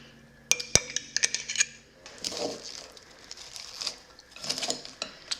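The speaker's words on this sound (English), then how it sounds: "Now you're gonna get to watch me mix this in a bowl that is far too small." Coleslaw being mixed in a bowl that is too small: sharp clinks of a utensil against the bowl, then wet squishing and scraping as the shredded cabbage is stirred, close and fairly quiet.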